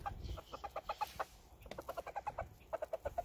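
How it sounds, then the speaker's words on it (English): Rooster on a farm giving rapid, rhythmic clucking food calls to hens, a steady series of short close pulses running throughout. "That's that rooster telling all the other chickens, especially the females, there's something good on the ground."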